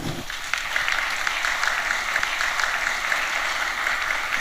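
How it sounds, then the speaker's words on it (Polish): A university medal ceremony audience applauds, a moderate, steady patter of clapping heard somewhat distant and fairly even throughout. "Wielkie brawa, wielkie gratulacje."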